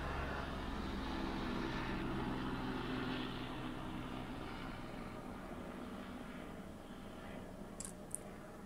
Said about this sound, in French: Je suis désolée pour l'hélicoptère qui passe